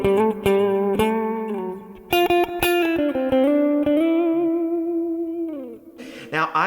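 Guitar through a Kemper profiler, its acoustic simulator and amp signal blended in parallel, playing a sequence of strummed chords and ringing notes, loud and up front, ending with a brief bright pick scrape.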